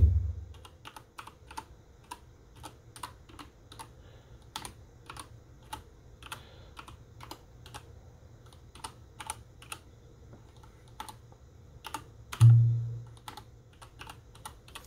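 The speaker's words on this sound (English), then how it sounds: "that sound is the actual keyboard underneath" Steady typing on a Keychron K8 mechanical keyboard with crisp, evenly spaced clicks for the whole stretch, close and alone, with one soft thump near the end.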